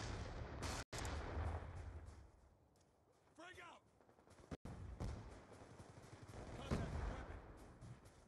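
Minigun fire rattles in a video game team deathmatch, dense continuous bursts of rapid shots that drop away briefly midway and then resume loudly, with someone talking over the gunfire.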